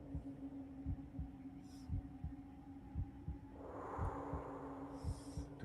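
A heartbeat sound effect from the PS2 game Psi-Ops: The Mindgate Conspiracy thumps in a steady low double-beat rhythm under a droning hum, with a brief whooshing swell midway.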